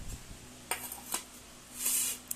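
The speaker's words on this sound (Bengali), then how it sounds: "আমার মা ভাত বাড়ছে" Rice is spooned onto plates at home, and a serving utensil gives a few light, faint clinks against the dishes. Soft isolated taps sit on a quiet background.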